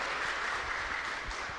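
A church congregation applauding in praise, dense continuous clapping from many hands at an even, loud level for the whole moment.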